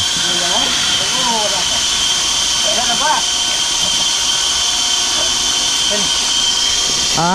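The engine of a deep well drilling machine roars loudly and steadily at a rocky well installation site, a constant heavy hiss and drone with people talking over it at intervals.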